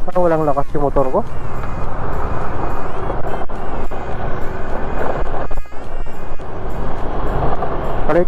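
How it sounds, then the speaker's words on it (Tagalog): Motorcycle engine running steadily while riding on a bumpy, potholed road, loud and continuous with wind buffeting, under someone talking near the microphone. "Parang walang lakas yung motor ko."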